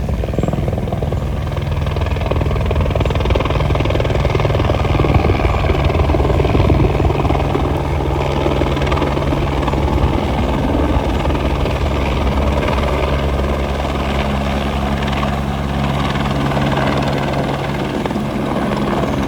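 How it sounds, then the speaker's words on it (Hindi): A helicopter at Kedarnath drones loudly and steadily, its rotor thumping in a constant, close roar that never fades. "यहाँ हेलीकॉप्टर ऑटो की तरह आते हैं, बिल्कुल एक जाता है एक आता है।"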